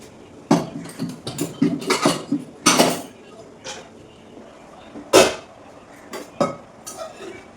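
A pot of rice is set on a kitchen stove with a string of sharp metallic clanks, knocks and scrapes of pot, lid and utensils. The hits are close and irregular, with short quiet gaps between them.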